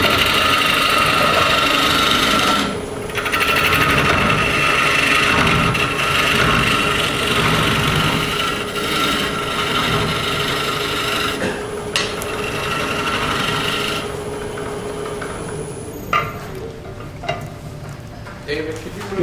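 Woodturning tool cutting the base of a bowl on a lathe at a woodturning club demonstration, a continuous close rasping, scraping hiss with brief pauses and rough texture, running loud throughout.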